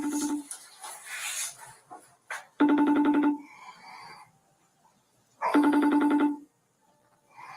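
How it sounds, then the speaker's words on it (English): A telephone ringback tone sounds twice after a number is dialed: two clear, evenly spaced ringing bursts, each about a second long, with silence between them. A brief rustling noise comes before the first ring. "So I'm gonna dial his number up."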